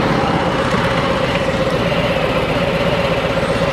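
A motorcycle engine with about 10,000 miles on it idles in a steady, loud, close rumble that holds evenly throughout without any change in pace.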